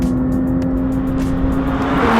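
Porsche 911 GT3 (992) accelerating hard, a loud, steady engine roar heard from close up with a constant droning tone through the run, no talking.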